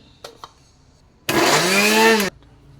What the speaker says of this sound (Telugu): ఇప్పుడు ఇది గ్రైండ్కి వేసుకోవాలి